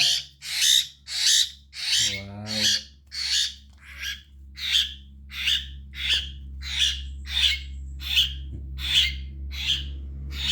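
Glossy starling chicks, two of them, give a steady series of harsh, rhythmic chirping calls, about one or two per second, close and loud throughout with no talking.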